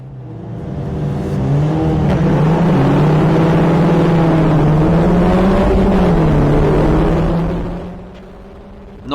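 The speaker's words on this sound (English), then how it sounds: "Need to set the revs and drop the clutch." A Formula Ford race car engine at Snetterton drones loudly and steadily at held revs on the starting grid, rising in pitch, then drops away sharply near the end as the clutch goes.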